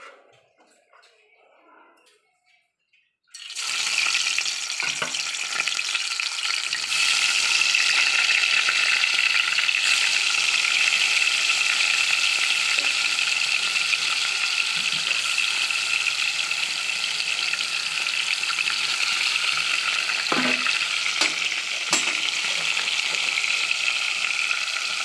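Koi fish fried in hot oil, a potato-and-papaya-leaf recipe, give a sudden loud sizzle a few seconds in that settles into a steady, close crackle, with speech over it.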